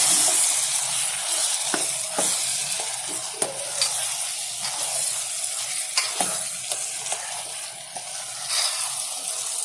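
A spoon scrapes and clatters through potato and cowpea pod curry in a pan, with a steady sizzle of frying underneath and sharp clinks of utensil against the pan, close and with no talking.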